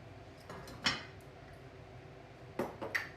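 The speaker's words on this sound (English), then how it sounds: "and stir it up, and then keep on occasionally stirring it every so often" A spoon knocks and scrapes against a pot while rolled oats are stirred into braised kale, giving two quiet bursts of clinking with a soft stretch between them.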